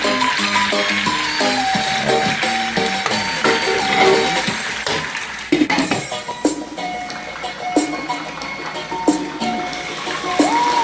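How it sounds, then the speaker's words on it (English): Water pours into a pot of chicken feet adobo stew, a rushing, splashing stream with a few clinks of cookware, heard over background music. "then I'll add the water"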